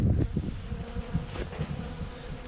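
Honeybees hum at a busy hive entrance, a close, steady buzzing drone with passing individual bees rising and falling over light wind noise.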